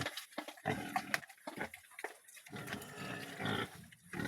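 Piglets on a pig farm squeal and grunt in short, rough bursts, close to the microphone, with several sharp cries overlapping.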